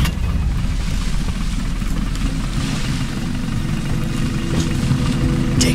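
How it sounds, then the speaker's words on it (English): A military vehicle engine in the game Battlefield Bad Company 2 runs with a loud, steady low rumble, close and unbroken from start to finish, without any voices. "Start the engine."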